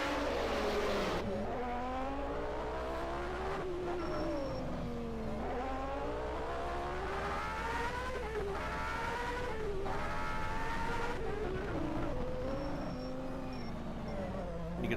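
Formula 1 race cars at the 1991 US Grand Prix street circuit, a loud, continuous, high-pitched engine scream rising and falling through gear changes as several cars pass close by, with no talking.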